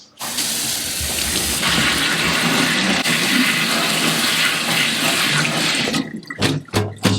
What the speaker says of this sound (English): what we need to make sure we do is rinse it off with water first